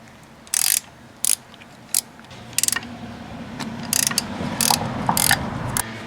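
A ratchet clicks in short bursts while removing 15mm bolts from the tensioner housing on a Chevy 3.8L engine, with quick close-up pawl rattles separated by brief pauses and mechanical handling noises underneath.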